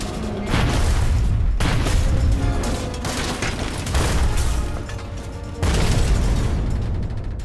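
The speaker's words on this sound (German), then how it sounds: "Eine Ladung trifft das U-Boot und explodiert." Deep, heavy booms of hedgehog anti-submarine charges exploding underwater against a U-boat roll out one after another, muffled and rumbling, with a dense low roar between the blasts.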